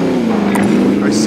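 Car engine humming steadily as a vehicle drives in Call of Duty Modern Warfare Warzone Plunder mode, a loud continuous drone with a short higher blip partway through, without any talk over it.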